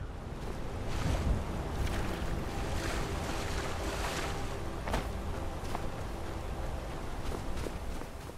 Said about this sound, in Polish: To są te wodospady